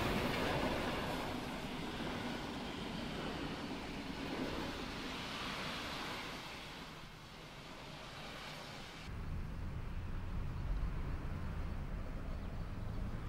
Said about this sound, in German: Hier kommt der Zug aus Karl-Marx-Stadt und läuft auf Bahnsteig 1 ein.